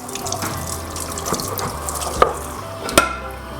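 Running tap water splashes steadily into a sink as orange peels are rinsed, with a couple of sharp clinks of a pot or utensil near the end.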